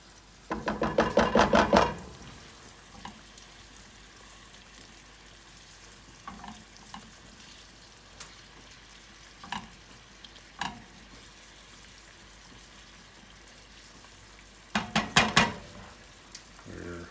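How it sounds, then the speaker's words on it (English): Clam sauce sizzles and spits in a hot pan in two loud bursts, with quieter clinks and scrapes of cooking utensils in between. "Clam sauce is sizzling."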